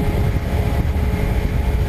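A Kawasaki Ninja 300 motorcycle being ridden, its steady engine drone rumbling close and loud beneath heavy wind rush, with no voices.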